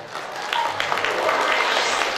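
Wedding guests at a Kazakh toi celebration break into steady, dense applause, a continuous wash of clapping that holds at an even level for the whole stretch.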